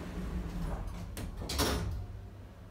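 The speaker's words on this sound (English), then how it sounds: "Doors about to close." Lift doors in a shopping centre slide shut with a soft mechanical rumble and a brief clunk, set against a low steady hum of machinery and ambient hall noise.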